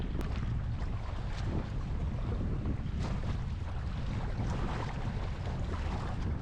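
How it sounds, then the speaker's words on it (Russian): Strong wind and high waves on Lake Baikal during a kayak trip, a constant loud roar of gusts buffeting the microphone over the wash of rough water. "Ветер старается развернуть байдарку, волна стремится ее опрокинуть"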